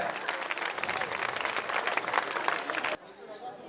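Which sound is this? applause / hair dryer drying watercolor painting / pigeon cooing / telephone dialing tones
applause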